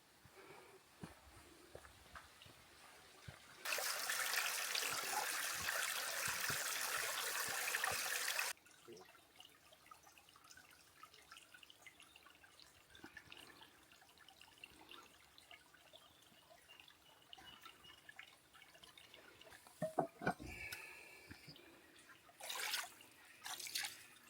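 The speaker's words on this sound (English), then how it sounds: "I'm making sure the water's running." Fresh water runs from a tap at a boatyard steadily for several seconds as a loud, broad rush, then stops, leaving quiet outdoor background with a few faint clinks and knocks.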